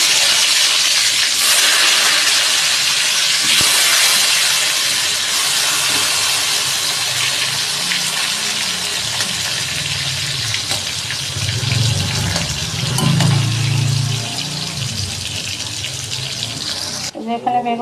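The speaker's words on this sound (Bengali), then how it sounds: "তেলটা গরম হয়ে গেছে, একটু বেগুনটা ভাজি," Eggplant slices frying in hot oil in a home kitchen, giving a loud, steady sizzling hiss that runs for the whole stretch, with a low clatter near the end.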